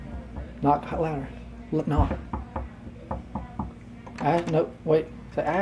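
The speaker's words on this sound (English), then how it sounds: "Knock louder." Knocking on a door during a family vacation, several sharp raps scattered among people talking close by.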